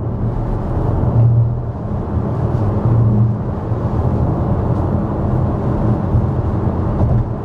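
Cabin of a Cupra Terramar eHybrid at 100 km/h on a rough road surface: a steady low road and tyre rumble with a smooth hum, fairly loud and constant, no talking.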